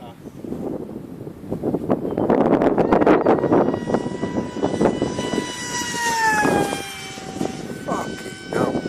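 A Wing Wing Z84 RC flying wing on a 4S setup whines as its electric motor spins up in bursts on a windy day, with wind buffeting and gusts over the pitch, while people talk nearby.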